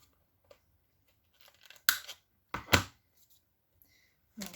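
A few sharp, crisp snaps of a corner rounder punch cutting card, separated by quiet pauses, close and fairly faint.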